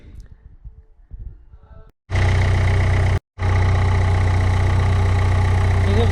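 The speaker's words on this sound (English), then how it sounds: "I have started the engine" A Nissan Note 1.5 dCi diesel engine with a leaking oil cooler starts after about two seconds of quiet and settles into a loud, steady idle with a brief cut partway through, rumbling continuously to the end.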